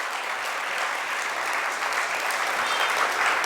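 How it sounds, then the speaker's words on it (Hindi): Steady, even applause from a large audience at a Jain monk's religious discourse in Indore, honouring devout people and filling the whole clip with no pauses. "उनके सम्मान में जितनी ताली बजाएं उतना कम है।"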